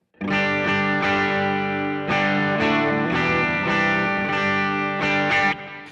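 Electric guitar chords ring out through a Line 6 Helix amp model, soaked in reverb and delay, with sustained notes blending into a shimmering wash.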